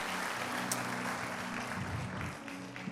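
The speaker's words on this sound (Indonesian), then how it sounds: "Beri tepuk tangan buat Raja segala Raja" A church congregation at a Sunday service claps together in a dense, steady wash of applause that holds evenly for about three seconds, with a faint hum of instruments underneath.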